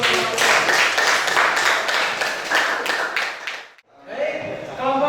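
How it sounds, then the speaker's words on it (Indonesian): A classroom audience claps briefly in a group after a student presentation, a quick burst of applause that drops out for a moment near the end and then resumes, with voices murmuring underneath. "Kasih tepuk tangan dulu."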